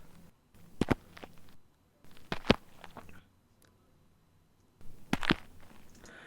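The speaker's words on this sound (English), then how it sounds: "Once I've separated them, I'll have a bunch of individual footstep samples." Edited foley footstep samples play as short, choppy clusters of steps separated by abrupt silences, close and dry, with no talk.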